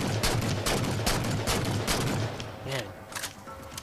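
Rapid bursts of weapon fire from the Halo 4 video game, mission Infinity, clearing the landing zone: a fast string of sharp gunshot cracks in the first half, thinning to scattered shots near the end, with a voice speaking over the action.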